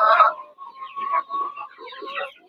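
Chickens cluck and call close by on a tiger chicken farm, a loud burst at the start followed by a run of shorter clucks and chatter.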